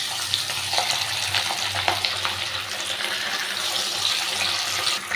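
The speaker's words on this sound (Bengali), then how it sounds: "এই কাতলা মাছগুলো একে একে আমি তেলের মধ্যে দিয়ে দিচ্ছি" Katla fish pieces sizzle and spit steadily in hot oil, a dense close frying hiss that holds at an even level throughout with small crackles, and no talking over it.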